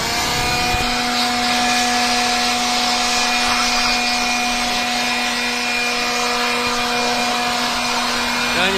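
A handheld air blower roars steadily and loudly while drying a wet Toyota Camry Lexus V6 engine bay during detailing, with a constant high whine running alone from start to finish and no talk.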